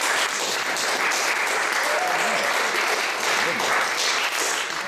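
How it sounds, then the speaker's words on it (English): Scouts' families and troop members applaud at a Boy Scout Troop 180 Court of Honor, a dense, even wash of clapping from a roomful of people, with faint voices underneath. "So let's give them a round of applause."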